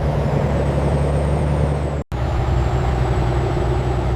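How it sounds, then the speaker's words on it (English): A refrigerated truck at a frozen french fry factory releases a loud hiss of air brakes over a deep idling engine rumble, with a brief break midway. "Refrigerated trucks carry the frozen fries out into the world."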